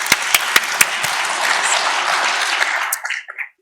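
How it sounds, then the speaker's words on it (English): Applause for a committee member at a conference session, opening with a few sharp separate claps that swell into brief steady clapping from a modest audience before cutting off abruptly. "So just a big applause to her."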